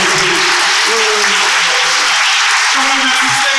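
Loud, continuous applause from a poetry slam audience in New Haven fills the room, a dense wash of clapping with scattered cheers and voices mixed in.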